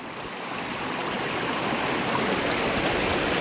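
A river stream flows through remote forest with no bridge or path, giving a steady, full rushing and gurgling wash of water that stays loud and unbroken throughout, with no voices.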